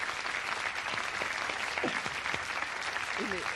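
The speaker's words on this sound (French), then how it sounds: "Et d'ailleurs, on applaudit le Saint-Marcelin." A television studio audience applauds steadily throughout, a dense, continuous clatter of clapping hands with a few voices faintly audible underneath.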